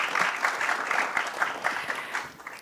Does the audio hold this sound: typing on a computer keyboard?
no